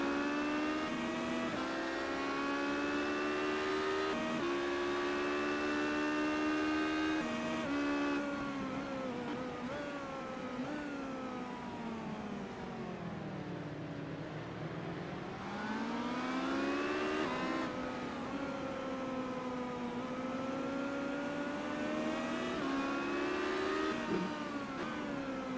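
Race cars in the iRacing sim roar off the start line together, several engines revving and climbing through gears in a dense, continuous wall of sound that dips briefly and then surges again, with no talk.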